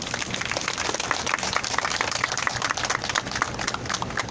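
A crowd at a Wednesday street demonstration claps loudly to welcome a speaker, a dense, continuous burst of applause with no voices over it.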